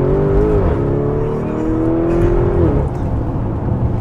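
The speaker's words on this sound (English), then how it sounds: "let's gently build up to motorway speeds now and see how it feels" A 2021 Lamborghini Urus family SUV accelerates steadily toward motorway speed, its engine a continuous near drone with a smoothly rising tone that levels off and then eases, under constant road and tyre rumble.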